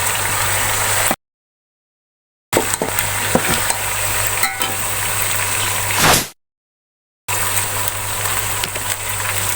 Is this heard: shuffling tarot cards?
no